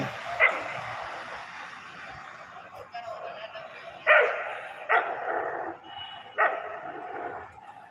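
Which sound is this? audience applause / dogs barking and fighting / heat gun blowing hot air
dogs barking and fighting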